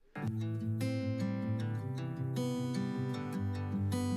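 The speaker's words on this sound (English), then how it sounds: "So the original acoustic guitar signal of just the close mic sounds like this." Acoustic guitar picked up by a close microphone plays a steady strummed and picked chord pattern for a country-style beat, bright, near and dry, entering after a brief pause and continuing alone without voices.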